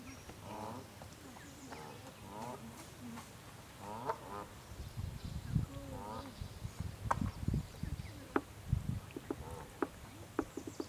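Geese with small goslings outdoors give scattered honks and softer peeping calls, some close and some farther off, mixed with faint talking and low handling noise in the background.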